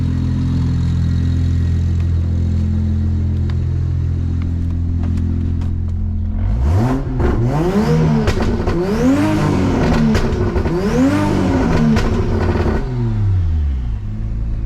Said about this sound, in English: Right now it's running open dump,